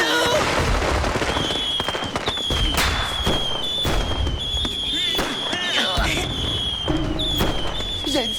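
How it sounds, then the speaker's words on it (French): Fireworks crackle and bang in a cartoon scene, a rapid run of sharp pops and whistling bursts that repeats for several seconds, with speech mixed in among the blasts. "des feux d'artifice?"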